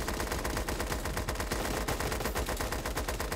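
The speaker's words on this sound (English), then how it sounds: "At least everybody here has mini guns." Minigun fire in Super Animal Royale rattles as a dense, continuous stream of rapid shots, loud and close throughout with no pause, no speech over it.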